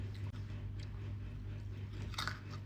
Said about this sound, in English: I didn't even know cranberries popped like that.